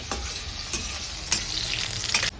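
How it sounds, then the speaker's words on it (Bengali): Continuous crackling sizzle of garlic and nigella seeds frying in oil, with a few brief louder pops and scrapes, heard up close without any talking. "এরকম ভাবে আমি ভাজা করে নেব"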